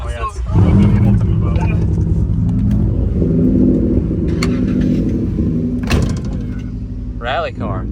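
Engine of a car waiting in line at the Hot Rod Power Tour in Bowling Green, Kentucky, a low steady rumble held throughout with a brief rev swell near the end, while people talk over it nearby.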